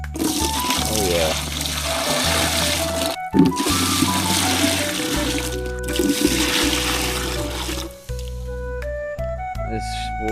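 Water runs from a campsite shower in a steady splashing stream, close by, broken by brief pauses and knocks while a person talks over it.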